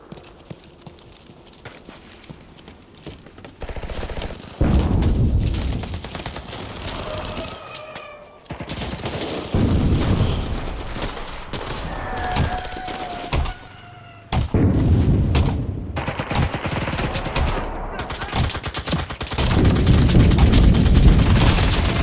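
Artillery and gunfire in the World War II shooter Enlisted on a power plant map: heavy booming blasts and rattling shots erupt repeatedly, loud and rumbling, with whistling shells and brief quieter gaps between the impacts.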